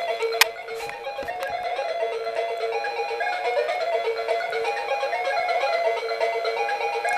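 A Rus Sonata 28 mobile phone plays a ringtone melody, a loud, bright electronic tune running continuously with no voices.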